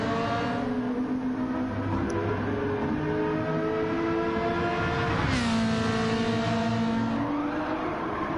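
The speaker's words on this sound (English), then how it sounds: "Here's some tires squealing up ahead." Steady racing-car engine drone in Gran Turismo 7 during a GR3 race at the Nürburgring 24h circuit, with a faint high tire squeal mixed into the loud continuous engine note and a pitch swoop midway.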